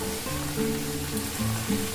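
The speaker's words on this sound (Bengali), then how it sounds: "কড়াইতে ওই সবজিগুলো ভাজা করব" Vegetables frying in a wok (kadai) while greens curry is cooked, a steady close sizzle running the whole time, with faint tonal hum under it and no talking.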